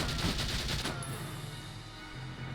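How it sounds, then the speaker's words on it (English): Rapid bursts of gunfire from the Valkyria Chronicles video game, a quick cluster of repeated shots packed into the first second, then a steady low hum of game ambience with no voices. "Nina can probably get the kill with 8 shots."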